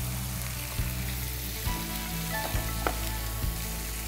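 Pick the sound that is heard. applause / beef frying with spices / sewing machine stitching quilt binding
beef frying with spices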